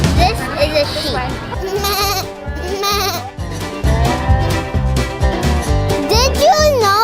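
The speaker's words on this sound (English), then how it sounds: "This is a sheep." A sheep bleats at a country farm during a children's field study, its calls mixed with someone talking close by and busy background noise throughout.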